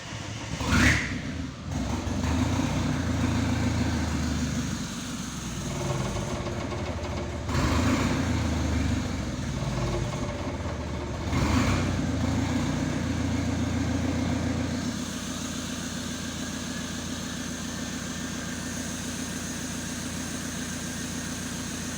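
A rebuilt Renault 1.9 engine cranks with a short starter whir, then catches and runs with loud, close, uneven revving. A couple of surges follow before it settles into a steadier, quieter idle, with no talk.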